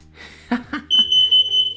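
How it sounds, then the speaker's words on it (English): A carbon monoxide alarm sounds a steady, high-pitched electronic tone continuously for about a second, preceded by a few short knocks and faint voices. "My alarm went off."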